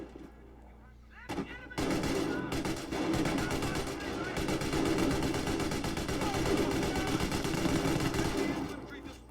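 Continuous rapid machine gun fire with heavy explosions in the video game Company of Heroes: Opposing Fronts rattles on for several seconds, dense and loud, with voices faintly mixed beneath the barrage.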